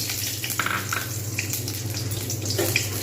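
Cashew nuts frying in oil in a pan for semolina payesh: a steady close sizzle and crackle with occasional stirring scrapes, continuous throughout.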